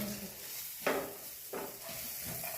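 Chopped onion drops into a hot pan of oil that already holds garlic, for a mushroom cheese omelette. A soft background sizzle jumps into two or three short, brighter bursts as the pieces land.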